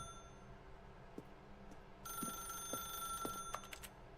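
A telephone rings in a video game, a faint electronic trill that starts partway through and repeats over a quiet background.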